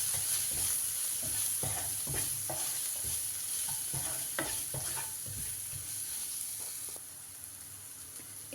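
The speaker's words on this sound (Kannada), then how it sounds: "ಇವಾಗ ಇದನ್ನೆಲ್ಲ ಚೆನ್ನಾಗಿ ಮಿಕ್ಸ್ ಮಾಡ್ಕೊಳ್ಳೋಣ." Egg fried rice ingredients tossed with magic masala in a hot pan, a continuous sizzle broken by repeated spatula scrapes and stirring knocks, close and steady with no voices.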